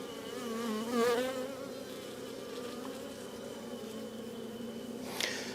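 Honey bees buzz in a steady low drone during a gentle hive inspection, fairly quiet and continuous, with a few individual bees whining louder as they fly close past.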